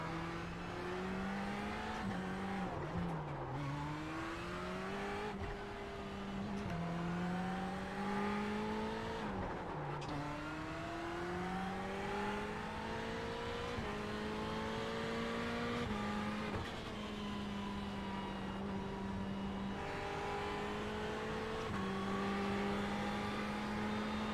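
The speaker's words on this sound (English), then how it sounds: "Let's warm these tyres up." An iRacing race car engine at Spa drones steadily as the car weaves to warm its tyres, the engine pitch rising and dipping through repeated gear changes, continuous and close for the whole stretch.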